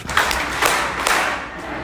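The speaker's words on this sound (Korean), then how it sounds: "진짜 이렇게 할 때 박수 치잖아요" A church congregation claps three times in unison, three distinct collective beats spaced roughly half a second apart, fairly loud and close, with light room murmur between.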